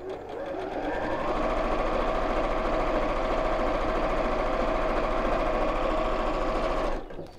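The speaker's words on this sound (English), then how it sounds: "And let's just sew straight down." Sewing machine stitching straight down through fabric patches for a cushion cover, a fast even mechanical whir holding steady close by for about seven seconds before stopping abruptly.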